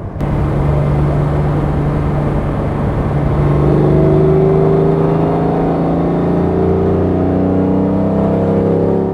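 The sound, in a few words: vintage Mercedes car engine running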